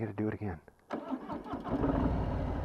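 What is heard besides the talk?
2020 Harley-Davidson Softail Street Bob V-twin engine starting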